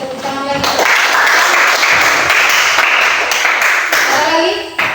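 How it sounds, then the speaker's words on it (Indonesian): Students in a science classroom clap together for a classmate's answer, loud steady applause from many hands, with a voice speaking at the start and again near the end. "Kita berikan tepuk tangan lagi."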